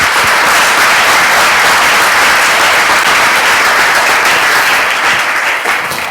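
Audience applause welcoming architect Amale Andraos at a regional architecture conference, a steady, dense wash of many hands clapping that holds throughout and thins slightly at the end.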